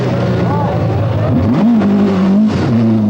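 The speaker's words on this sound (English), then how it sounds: "Andy Dawson, probably on his last Datsun drive, escapes with his Datsun Sylvia" A Datsun Silvia rally car on a forest stage of the 1982 RAC Rally drives past with a loud, continuous engine drone whose pitch rises and falls as it works through the gears.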